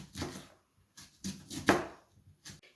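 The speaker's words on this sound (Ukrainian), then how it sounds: "таку кількість я беру ось таких три достатньо великих цибулинки, її я буду нарізати кільцями" A knife cuts three large onions into rings on a board, giving about five distinct crunchy chops with quiet pauses between them, close and fairly clear.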